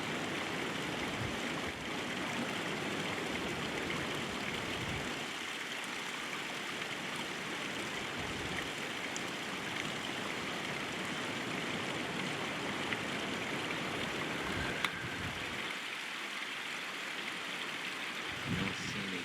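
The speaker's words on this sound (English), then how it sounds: "So the little creeks are running." Small mountain creeks run at Courtright Reservoir, a steady broadband rush of flowing water that holds for the whole stretch, with faint brief knocks and a voice now and then.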